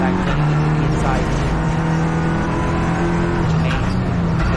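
Clio Cup race cars lapping a circuit in Slovakia, a loud continuous engine drone with shifting pitch as cars pass, under a commentator's voice.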